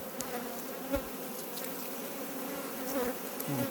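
Honey bees buzz around an open hive being moved into a better box, a dense, steady drone of many insects close by with individual bees passing near.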